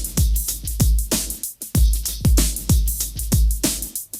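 Sampled drum loop: a punchy, steady breakbeat of deep kicks and crisp snares and hats, loud and up close with no voices.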